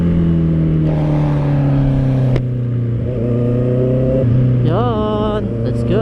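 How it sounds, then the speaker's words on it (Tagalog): A motorcycle engine held at fairly high RPM, a loud close droning whine that steps down and back up, ending in a quick rising rev, with wind noise throughout. "Medyo mataas yung ano natin, yung RPM ng ating bike."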